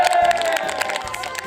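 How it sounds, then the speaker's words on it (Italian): A crowd at a campaign rally cheers and applauds for candidate Mimmo Dani, a brief dense burst of clapping and shouting close by. "Facciamo un applauso a Mimmo Dani!"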